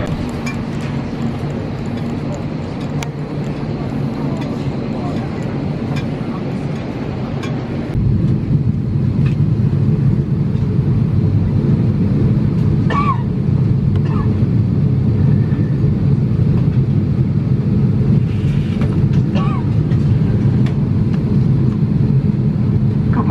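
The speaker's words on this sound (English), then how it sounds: "Give you some footage of takeoff and landing" Frontier Airlines jet taking off, heard from a window seat: a loud, steady engine roar and rushing wind that builds sharply part way through, then holds continuous with faint rattles.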